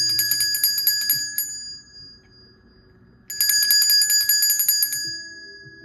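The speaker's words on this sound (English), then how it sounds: "I'm gonna ring the bell." A bell rung rapidly and loudly in two bursts of bright, shimmering strikes, separated by a short pause in which the ringing fades away.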